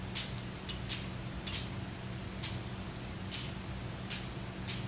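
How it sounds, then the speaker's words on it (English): A handheld spray bottle mists water over paper scattered with iron filings, giving about nine short hissing bursts at an irregular pace against steady background hum. "From up here, give your paper a mist."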